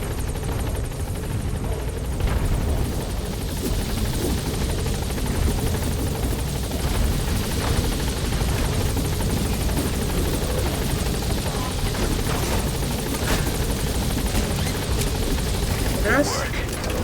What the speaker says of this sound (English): Chopper's touching down.